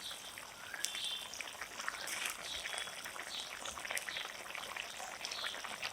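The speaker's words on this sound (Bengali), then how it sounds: "তরকারি বলক এসে গেছে" Vegetable curry with tengra fish, greens stems and taro stolons comes to a boil in a pot after water is added, giving a steady close bubbling and crackling hiss with light popping throughout.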